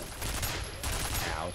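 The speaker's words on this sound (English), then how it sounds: "These turrets are not very accurate." Rapid turret gunfire from the video game Ahhhh Real Monsters, a dense, sustained burst of automatic shots filling the clip at steady loudness, with a brief lull midway before the firing resumes.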